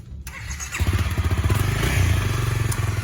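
A 2018 Honda CRF 250 Rally motorcycle revs up and pulls away close by, its engine settling into a loud, steady pulsing drone with some clatter at the start.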